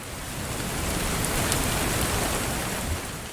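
Steady rain hisses as a dense, even wash of falling drops, moderately loud and continuous throughout, with no voices.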